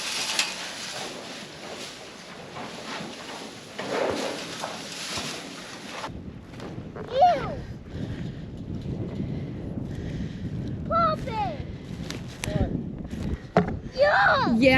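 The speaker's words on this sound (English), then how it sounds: "That wind's getting bad. That wind is getting very cold." Strong cold wind on a farm during a winter storm rushes and buffets the microphone in the first half, then drops to gustier noise with occasional knocks and clatter.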